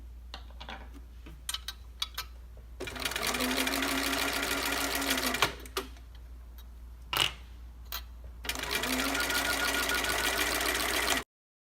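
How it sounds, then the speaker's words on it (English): A sewing machine fitted with an edge stitch foot stitches along a folded edge of hidden binding, running in two long steady bursts of close, fast needle chatter separated by brief pauses and small clicks. "To stitch the edge down, I use my edge stitch foot"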